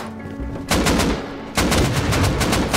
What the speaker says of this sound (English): I shot him point blank